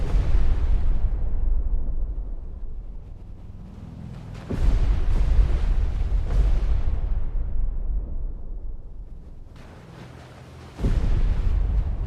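Depth charges detonating in Destroyer The U-Boat Hunter, deep booming underwater blasts that strike several times at intervals, each swelling low and loud before slowly rumbling away.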